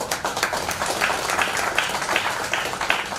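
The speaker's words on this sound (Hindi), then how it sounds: "क्या बात, तालियां।" Audience applause at a speech event, a steady patter of many hands clapping at moderate, somewhat distant level for a few seconds, no voices over it.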